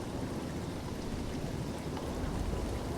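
Sea spray and wind-driven water wash steadily over a boat at sea in a storm, a dense continuous hiss and patter like heavy rain, close and loud throughout with no voices.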